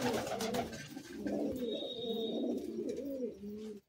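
Old-bloodline Madrasi pigeon, a male from Madras, cooing close by in a series of soft throaty rolling coos with a brief higher chirp partway through, no voices.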